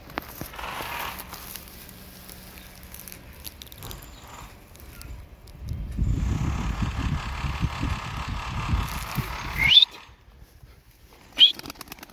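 A tumbler pigeon claps its wings in flight over a rooftop, a loud flurry of flapping building midway and cutting off sharply, followed by a short quieter flutter, with wind noise throughout.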